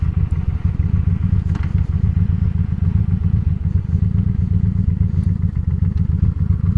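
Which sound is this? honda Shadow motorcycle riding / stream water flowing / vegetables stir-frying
honda Shadow motorcycle riding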